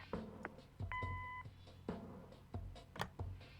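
Answering machine beep in the Kathy Rain adventure video game, a single steady electronic tone of about half a second set among game sounds and background noise.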